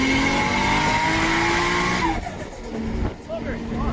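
Broadband road and tyre roar fills the cabin of a stripped-interior Nissan R34 Skyline at speed, a steady loud rumble with an engine tone that drops away and shifts partway through.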